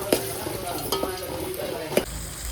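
Onions, tomato and curry leaves fry in a pan, a steady close sizzle broken by a few sharp scrapes of stirring over about two seconds.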